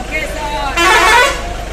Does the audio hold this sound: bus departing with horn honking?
yes